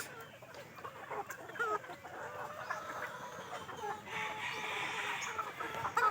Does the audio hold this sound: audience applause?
no